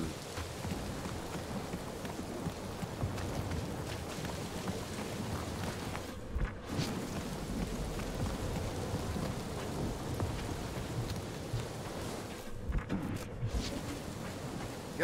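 Steady rain with rumbling thunder in Marvel's Guardians of the Galaxy video game, a dense continuous downpour filling the scene with two deeper thunder swells rolling through, no talk.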